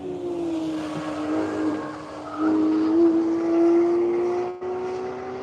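A race car laps the Hedge Hollow track in a One Lap of America event, its engine a steady sustained drone heard from a distance that rises slightly in pitch as it holds speed.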